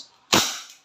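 Crosman SR357 full-metal BB pistol fired once at a hard target, a single sharp close crack followed by a short decaying ring, with no talking.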